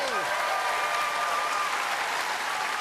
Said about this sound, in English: Layla McKinnon and Carl Stefanova, give them a big round of applause, everybody.